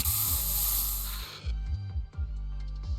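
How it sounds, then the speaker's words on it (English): Special Bangboo spray from the game Zenless Zone Zero gives a loud steady hiss that cuts off abruptly, followed by low rumbling game sounds and short electronic blips. "Here, have a taste of this special Bangboo spray."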